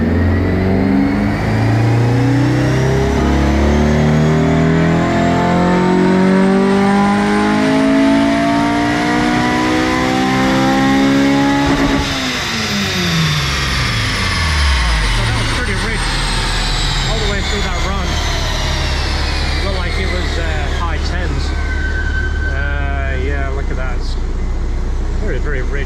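A Honda S2000 engine on a dyno tuning run revs up hard through the gears, its loud wail climbing steadily in pitch before falling away, then keeps droning on at a high level with a voice faintly beneath it.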